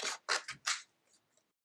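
Scissors snipping out paper shapes for a children's Easter egg craft, four crisp close cuts in quick succession followed by a couple of faint trailing snips, with no talking.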